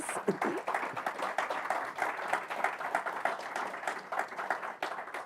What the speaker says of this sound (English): Can we have a round of applause for our speakers, please?